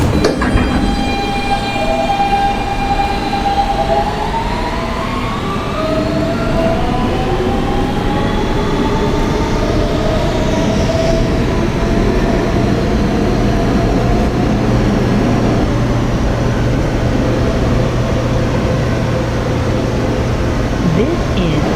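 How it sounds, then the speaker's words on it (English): Kawasaki R160B Siemens subway train, a Brooklyn-bound R local in New York, running between stations. A loud, steady rumble of wheels and motors carries a rising then falling electric whine, heard from inside the car without talk. "This is a Brooklyn-bound R local train."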